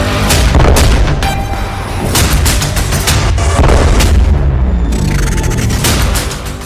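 India's new Zorawar light tank, built for the Ladakh and Kashmir front, firing: loud repeated booming blasts and gunfire-like cracks in quick succession, with rumbling echoes throughout and no talking.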